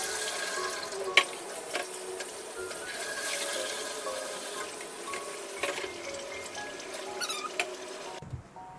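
Rice being washed under a running kitchen tap, a steady rush of water with soft patter and swishing as the grains are rinsed, close and moderately quiet, ending abruptly near the close.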